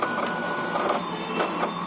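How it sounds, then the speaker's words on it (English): A TVS MSP 455xl classic dot matrix printer powers on with steady mechanical whirring and a few soft clunks from its print head, close up and alone. "Yeah, I did switch on. The printer is in good condition, right?"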